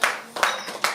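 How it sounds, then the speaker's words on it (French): Scattered clapping from a small audience at a slam poetry night, a few uneven bursts of claps that start and stop, near and fairly clear. "On a applaudi très fort Célia"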